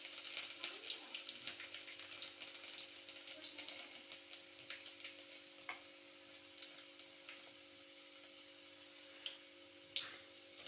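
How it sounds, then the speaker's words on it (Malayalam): Garlic fries with popping mustard seeds in a pan, giving a quiet, steady sizzle scattered with sharp little crackles and pops, close by and alone. "കടുക് പൊട്ടി ഇടുമ്പോഴത്തേക്ക് വെളുത്തുള്ളി ഇട്ട് കൊടുക്കാം"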